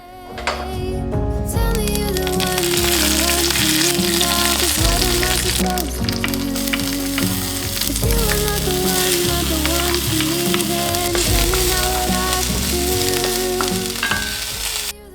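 Bread poha of leftover bread, onion, tomatoes and spices frying in a pan, a loud steady sizzle with stirring, close and unbroken throughout.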